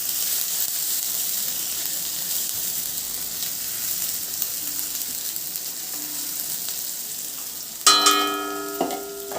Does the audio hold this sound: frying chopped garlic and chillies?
yes